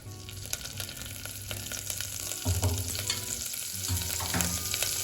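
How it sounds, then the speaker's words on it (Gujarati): Chopped green chillies fry in a spoonful or two of oil in a cooker, giving a steady close sizzle broken by stirring scrapes, with no talking. "અને હવે મરચાંને આપણે 1 મિનિટ માટે થોડા શેકાવા દઈશું."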